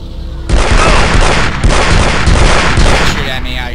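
Loud, heavy bursts of weapon fire from the Aliens vs Predator 2 Marine campaign, booming close up in sustained volleys with short breaks between them.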